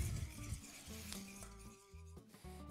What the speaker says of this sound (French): Je mélange tout ça.